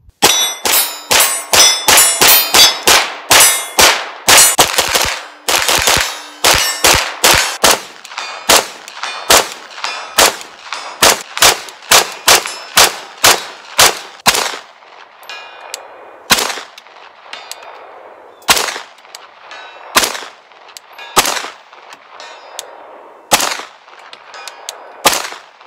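Rock River Arms RUK 9mm AR pistol fired in rapid strings outdoors, loud sharp reports with ringing clangs of steel targets, fast bursts at first, then slower spaced shots.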